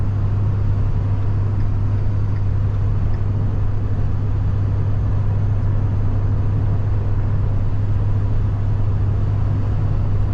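Diesel engine of a Ford F-350 pickup truck with 246,000 km and a six-speed automatic, carrying scaffolding, heard from inside while driving as a steady, loud low drone with constant road rumble and no talk.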